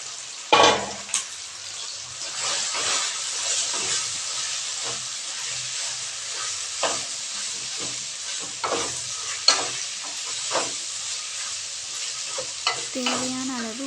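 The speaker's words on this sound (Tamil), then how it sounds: "மீன் மேக்கரை குட்டி குட்டியாக நறுக்கி வச்சு அதையும் சேர்த்து நல்லா ஃப்ரை பண்ணிக்கோங்க" Chopped meal maker pieces fry in a pan, giving a steady close sizzle and hiss with occasional stirring scrapes and clinks, no talking.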